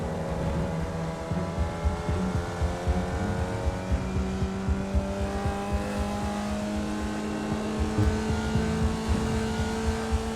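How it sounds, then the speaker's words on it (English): A Formula Vee race car at Lime Rock revs hard on track, its engine screaming continuously through gear changes with steady harmonic whine and constant loudness, no talk. "I'm just making the engine scream all the time."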